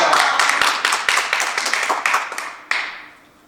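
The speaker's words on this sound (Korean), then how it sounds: "우리 회장님 나오실 때 할렐루야를 박수로 한번 환영하겠습니다." A gathering of elderly Korean clergy at a New Year blessing service claps to welcome the chairman, a brisk burst of many hands that tapers off into a few last claps.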